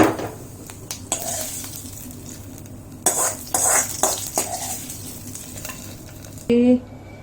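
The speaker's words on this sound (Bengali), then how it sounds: "এবার এই তেলটা আমি ডালে দিয়ে দেব।" Hot tempering oil with chili and five-spice panch phoron goes into a pot of dal for a Jain dinner, with stirring and scraping, scattered clinks and short bursts of sizzle close by.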